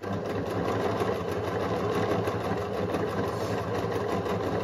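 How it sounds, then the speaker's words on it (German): A Pfaff select 2.0 sewing machine stitching on a stretch setting, a steady, close mechanical whirr with a rapid needle rhythm running continuously and loudly throughout, with no talking. "Also die Nähmaschine funktioniert so oder so fast immer von alleine."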